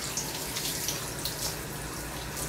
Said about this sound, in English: I'm going to rinse you off now, okay?